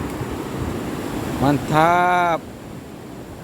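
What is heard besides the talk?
big ocean waves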